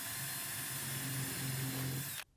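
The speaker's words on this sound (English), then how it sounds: "drilled a hole at each mark using a countersink bit" A power drill fitted with a countersink bit whines steadily at high speed for about two seconds while drilling a hole in wood, then cuts off abruptly.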